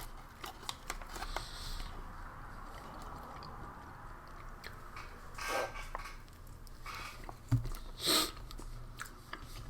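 Beef from a French 24-hour ration menu is chewed up close, with soft wet mastication throughout and a few sharper crunchy bites near the end.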